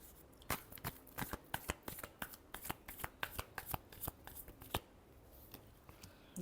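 Tarot cards are shuffled up close in a quiet room, giving a quick string of crisp riffling snaps and soft slaps that repeat unevenly, with no talking.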